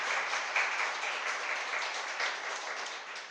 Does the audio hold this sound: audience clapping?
yes